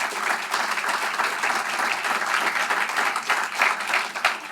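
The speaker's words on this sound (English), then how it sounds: "So please give them a round of applause." A live event crowd in St. Louis applauds the event team: steady, dense clapping from many hands, sustained evenly throughout at moderate loudness.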